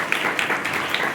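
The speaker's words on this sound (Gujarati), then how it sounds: "તાળીઓના ગગડાટથી વધાવીશું." An audience at a notebook and compass distribution event at D B Parekh High School in Sankheda claps briefly, a short burst of mixed applause.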